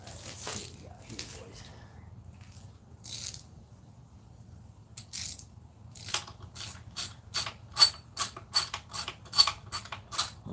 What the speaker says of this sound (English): Little wrench turning for y'all.